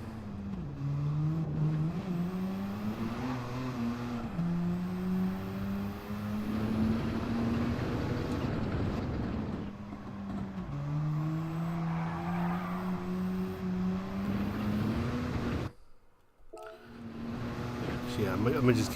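Race car engine in Gran Turismo 7 holding a steady loud drone with rising pitch through gear changes, briefly cutting out near the end before returning, with a voice talking over it.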